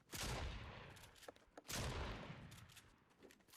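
Rapid gunfire from a weapon in the video game Fortnite, two bursts of sustained shots, each loud at the start and fading into ringing echoes.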